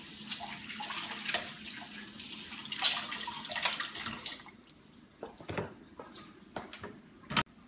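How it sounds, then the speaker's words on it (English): Water running from a tap as hands are washed with soap, a steady near splash for about four seconds that then stops, followed by faint scattered drips and small clatters. "make sure to wash your hands with soap"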